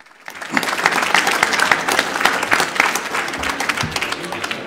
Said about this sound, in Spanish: por favor les ofrecemos un aplauso a nuestros panelistas en la tarde de hoy